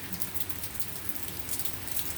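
Steady rain falls without a break, a dense, even hiss of drops hitting the ground and nearby surfaces outdoors in the morning. The sound is fairly quiet and continuous, with no voices.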